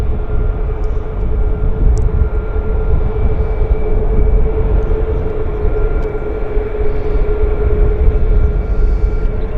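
Boeing jetliners taxiing at Vancouver International Airport give off a loud, steady engine roar and whine that holds evenly throughout, heard from a nearby outdoor vantage with no speech.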